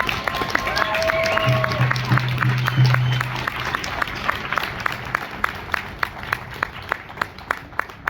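An audience applauds to welcome Kellie to the stage, a steady burst of clapping that thins out into scattered individual claps and a few footsteps.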